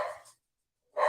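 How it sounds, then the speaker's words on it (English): Dogs bark twice, a short burst at the start and another near the end, with a silent gap between them. "Sorry for the dogs."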